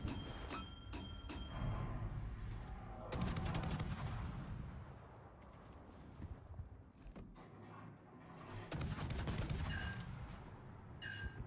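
Bombs and gunfire in a naval battle video game with warships, dense bursts of shots and heavy blasts rolling continuously throughout, loud and close with sharp crackling volleys recurring near the start and end.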